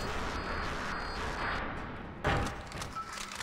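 Explosions and gunfire rumble through a Splinter Cell Pandora Tomorrow Spies vs Mercs match, a dense continuous low roar with a sharper blast near the middle and scattered thuds after it.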